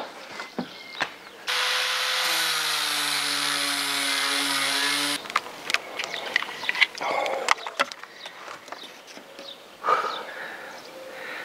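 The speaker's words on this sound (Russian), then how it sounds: "Хорошо, что болгарка еще легкая." An angle grinder whines loudly for a few seconds on the roof of a Peugeot 406, its pitch dipping as it bites, followed by clanks and scraping of metal.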